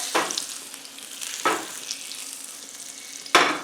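Butter fizzes and sizzles softly as it melts in a hot pan, a steady crackle broken by a few sharp clinks of a utensil.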